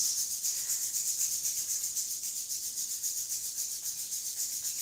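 Two palms rub briskly together in a fast, even back-and-forth, giving a continuous close-up swishing friction with a regular pulsing rhythm and no voices.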